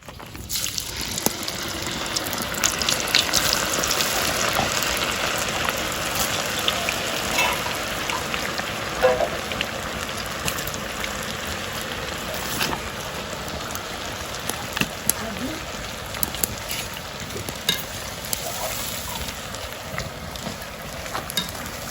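Battered cauliflower for gobi manchurian deep frying in hot oil, a dense, steady crackling sizzle that holds at even loudness throughout, with no voices.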